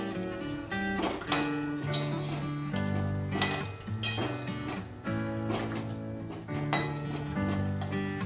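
Ghee and garam masala stirred in a cooking pan with a utensil, steady metallic scraping and clinking strokes close up over a bright sizzling wash, continuing throughout without talk.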